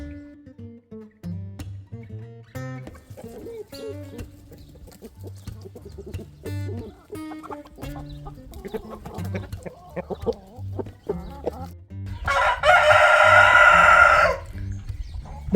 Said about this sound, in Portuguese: esse lote aqui das galinhas mais velhas